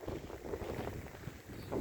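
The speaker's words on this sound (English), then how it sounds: "It's so windy." Cold wind gusts across the microphone outdoors during a walk in wind and rain, a low rumbling buffet that rises and falls through the short stretch and swells again at the end.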